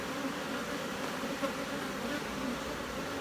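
Agitated honey bees buzz around an open hive, a dense, steady swarm drone close by with individual bees whizzing past.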